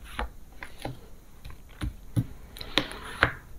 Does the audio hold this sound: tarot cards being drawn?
yes